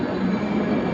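A Bangalore metro train running, a continuous steady rumble with a low humming tone, loud and close, with no voices over it.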